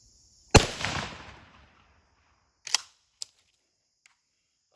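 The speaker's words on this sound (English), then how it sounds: "So now I'm shooting that wood little target, homemade plastic" A 20 gauge shotgun loaded with AA ammo fires once at a small wooden target outdoors, a loud sharp blast with a decaying tail, followed by fainter mechanical clacks and clicks, no speech.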